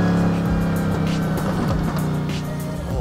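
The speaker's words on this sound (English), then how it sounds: "All the downshifts and the crackles." Brabus GT900 supercar engine in the Roblox driving game, roaring continuously through downshifts with harmonic tones sweeping up and down and scattered crackles, loud and close, no talking.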